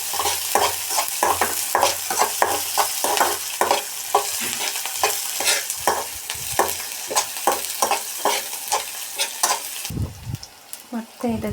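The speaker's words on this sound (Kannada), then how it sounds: "ಬೆಳ್ಳುಳ್ಳಿ ಮತ್ತು ಈರುಳ್ಳಿ ಎಲ್ಲವನ್ನು ಕಂದು ಬಣ್ಣ ಬರುವ ತನಕ" Cumin, garlic and onion sizzle and fry in a hot pan while a spoon stirs them in a steady run of scraping strokes, loud and close, with no talk.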